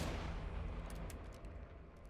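An explosion goes off in the video game Hunt: Showdown, a heavy booming blast with a rumbling tail that fades over about two seconds.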